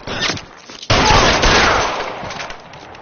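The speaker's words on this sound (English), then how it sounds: "I'll lay down to suppression fire." Dense bursts of gunfire from the video game L.A. Noire, rapid overlapping shots in a loud sustained fusillade with a sharp onset and echoing tail.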